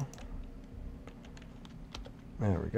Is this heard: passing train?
no